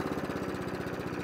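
A vintage lawn mower engine idles steadily with a fast, even, rattling putter, close up and fairly quiet, with no voices.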